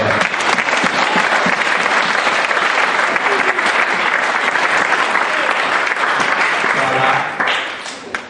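A church congregation applauds and cheers loudly and continuously, a dense close wash of clapping that holds steady for several seconds before tapering off at the end.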